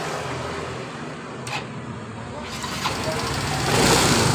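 A hot Yamaha Mio scooter engine is started with the electric starter, a muffled mechanical whir rising into a louder engine note near the end, with voices talking over it.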